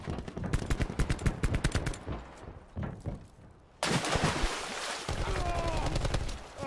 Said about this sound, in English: Wait, let me shoot this.